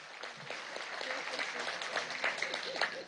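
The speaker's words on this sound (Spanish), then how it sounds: "un aplauso a Jesús, vale" Audience applause at a meeting with deputies of the Gran Polo Patriótico, a dense, fairly distant clapping that carries on steadily, with voices mixed in.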